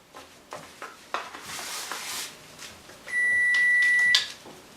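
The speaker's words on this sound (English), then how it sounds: "I'm going to ignore that timer for just a second" A kitchen timer gives one steady electronic beep lasting about a second, loud over faint kitchen background noise while pecan-crusted red snapper and roasted vegetables are being cooked in a hot pan.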